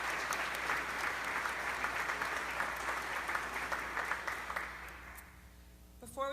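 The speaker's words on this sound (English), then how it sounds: "Can we just have one more round of applause?" Sustained applause from a debate event audience, a dense wash of many hands clapping at steady volume that gradually thins and fades out near the end, with a brief sound at the very close.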